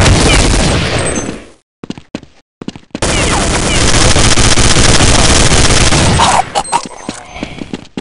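Counter-Strike 1.6 gunfire erupts in loud, dense bursts of automatic shots, breaks off into short separated shots, resumes as a long sustained volley, then fades into scattered single cracks, with a voice briefly heard.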